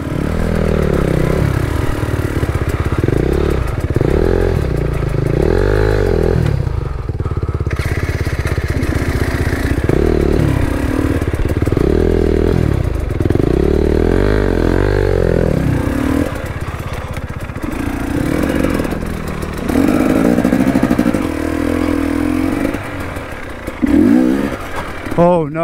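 A KTM 250 TPI two-stroke enduro motorcycle engine revs loudly and continuously, its pitch rising and falling with repeated throttle blips close up while riding, with a rider talking over it in places.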